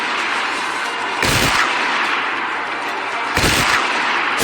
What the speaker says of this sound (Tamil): பீரங்கியிலிருந்து 3 குண்டுகளை வெடிக்க வைத்தார் சிவாஜி.